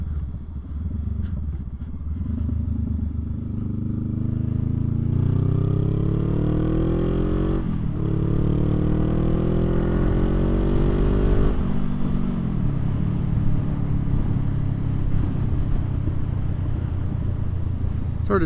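A loud 2021 Rebel 500 SE motorcycle engine with a Two Brothers aftermarket exhaust, deep and throaty, revs up steadily, pitch climbing through the gears, then settles into a rumbling cruise.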